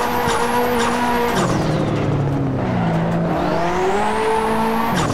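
A Nissan 180SX slides in the racing game Assetto Corsa on the Lake Louise setting, its engine whining and revving loudly while the tires squeal in long, rising and falling skids throughout.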